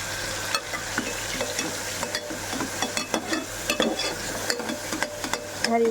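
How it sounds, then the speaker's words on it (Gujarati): A yogurt spice mixture stirred in a hot pan over tempered ajwain, asafoetida and curry leaves, with a constant close sizzle and repeated scraping strokes of the spoon against the pan, no talk. "આ રીતે હલાવીશું, દહીં આપણું ફાટી ના જાય એટલે."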